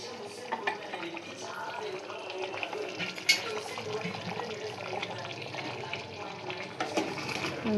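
Masala paste stirred into vegetable pieces in a pan, soft scraping and gentle sizzling at a steady pace, close by, with faint talk in the background.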